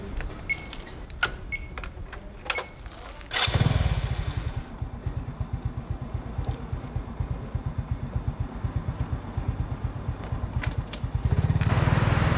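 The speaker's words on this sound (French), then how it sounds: "Si tu n'as pas peur de circuler en moto, monte." A motorcycle engine starts up and runs in a rapid, steady pulsing putter through city streets, loud and close, with a few metallic clinks before it starts and a revving surge near the end.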